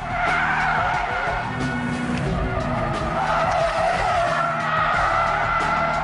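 An Audi TT RS, Porsche Boxster S or Nissan 370Z slides sideways with traction control off, tires squealing loudly and continuously over a steady, revving engine roar close by, with no voices.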